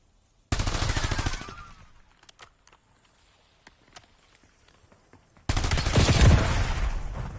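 Two loud bursts of sustained automatic assault rifle fire in Black Ops 7 multiplayer, each lasting about a second or more and separated by a quieter stretch of scattered distant shots and small clicks.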